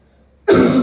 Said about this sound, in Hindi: खांसी बहुत चल रही है